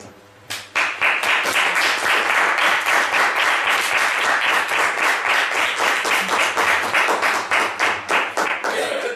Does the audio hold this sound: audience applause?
yes